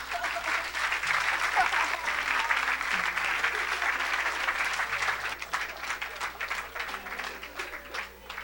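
A church congregation applauds during a service with continuous, dense clapping for several seconds, and faint voices or music run underneath.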